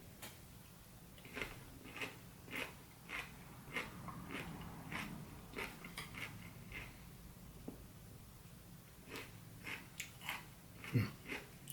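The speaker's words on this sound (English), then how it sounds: "I've got a lot of pickles to eat" Pickles being bitten and chewed close up, a regular series of crisp crunches roughly every half second, quiet and with no talking.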